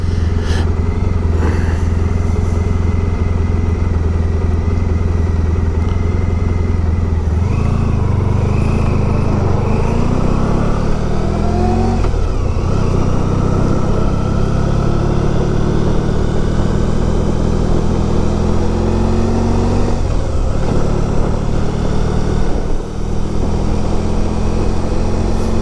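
A classic motorcycle rides along the road, its engine drone loud and steady throughout with rising and falling revs as it shifts through gears, wind rushing over the rider.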